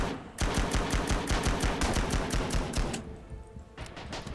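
A Bren light machine gun firing in the Rising Storm Singapore video game, heard as a loud, steady stream of rapid shots for about two and a half seconds, then a pause and a few trailing shots.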